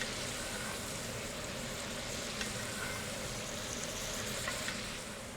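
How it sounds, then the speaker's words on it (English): Meat searing in a pan with oil and butter, a steady dense sizzle and crackle that runs unbroken at an even level, close and alone with no voices. "Okay, let's give that a little bit to sear."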